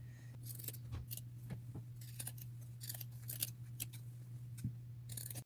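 Scissors snip through fabric patches on a bucket hat in a quick, irregular run of crisp close cuts over a steady low hum.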